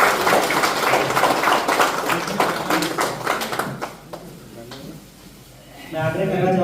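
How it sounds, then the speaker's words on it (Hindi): An audience breaks into loud, dense clapping at a ceremony, sustained for several seconds before tapering off into quieter scattered claps, with a voice rising again near the end. "अरे तालियां तो गड़गड़ा।"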